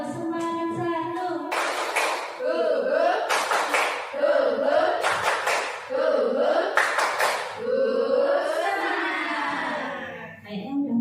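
An Indonesian group doing tepuk semangat spirit clapping: sharp bursts of rhythmic clapping in several quick patterns, alternating with voices chanting in unison between the clap sequences.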